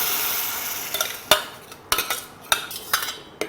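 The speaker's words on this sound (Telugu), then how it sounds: "బాయిల్ చేసుకున్న స్ప్రౌట్ మిశ్రమాన్ని వేద్దాం." Boiled sprout mixture for misal goes into a hot pan with a soft sizzle, followed by a series of sharp metallic clanks of a spoon stirring against the pan, close and distinct.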